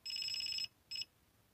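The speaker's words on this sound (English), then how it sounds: "Sometimes it does the multiple beeps and then does the double beep." A lamp power tester sounds a rapid run of high electronic beeps for over half a second, pauses, then gives a shorter closing beep; close and clear with no talking.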